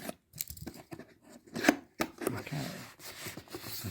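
A blade slices through the cardboard packaging of a Yamaha keyboard pedal box: close, uneven scraping strokes with a sharp rip near the middle, separated by short pauses.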